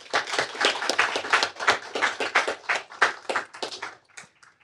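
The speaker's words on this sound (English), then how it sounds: "Please give a big round of applause one more time to our wonderful speakers today" Audience applause for speakers at an anniversary celebration, a close burst of clapping that rises, holds steady, then tapers to a few scattered claps.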